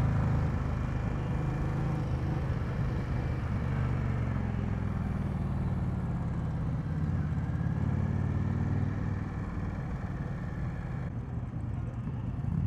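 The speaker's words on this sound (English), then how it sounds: "I miss the feel of this engine, I'll tell you that much. Immediate torque, immediate power." A 2020 Indian Scout Bobber engine drones steadily during a test ride at a dealer demo day in Fredericksburg, Virginia, with a constant low rumble and wind rush throughout.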